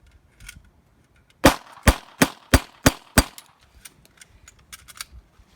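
Six sharp handgun shots ring out in an even, quick rhythm, loud and close with a ringing metallic edge, followed by a few faint clicks and handling noises afterward.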